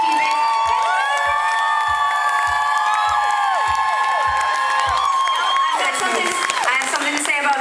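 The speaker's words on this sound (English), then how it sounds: "A huge, extra huge round of applause for our incredible bass player playing bass and keyboard." A large outdoor concert crowd cheers, whoops and shrieks in a sustained loud roar with scattered clapping, with a voice over a PA heard alongside the noise.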